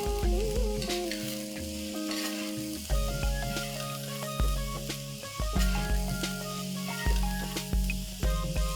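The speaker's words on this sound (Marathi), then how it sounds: "इथे मी अर्धा किलो घेवडा 1 इंच मोडून घेतलेला आहे, तो घालून जरा 1-2 मिनिटं परतून घेऊया" Chopped broad beans (ghevda) sauté in hot oil in a pan, giving a steady close sizzle with occasional stirring scrapes, all under background music.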